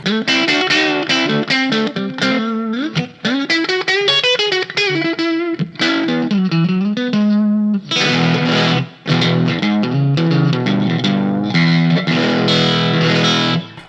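Distorted electric guitar, a vintage Casino-style copy, through a small Vox combo amp, bending single notes and then strummed crunchy chords, loud and close with no talking.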